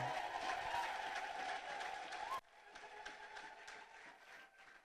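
A church congregation claps and ululates together, a dense, fairly distant wash of applause with high trilling voices that drops suddenly partway through and then continues more quietly.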